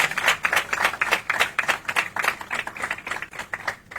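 Scattered audience clapping at a youth democracy forum, distinct individual claps in an uneven quick rhythm, close and fairly loud, with no voices over it.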